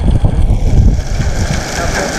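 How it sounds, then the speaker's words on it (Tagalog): Strong wind buffets a microphone on a bicycle being ridden near an island, a loud, steady roaring rumble with gusty swells and no talk. "Grabing hangin mga lodi."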